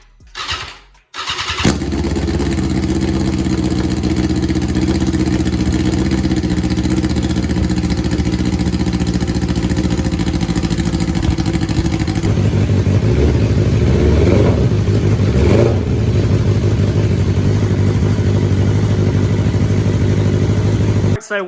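A 2021 BMW S1000RR motorcycle, rebuilt after a wreck and showing an engine fault, starts cold after a short crank and settles into a loud close idle, with revs rising and falling partway through.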